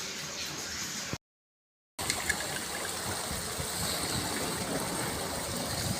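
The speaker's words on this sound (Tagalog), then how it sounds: "Ito yung dagat ito sa Korea." Seawater washing along a shore in Korea at about 5 PM, a steady broadband wash and trickle that is close and continuous, broken by a short gap of silence near the start.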